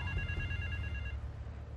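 A telephone rings in the video game GTA 3, a bright electronic ringing tone trilling steadily for about a second before cutting off, over a dense low rumble of game background noise.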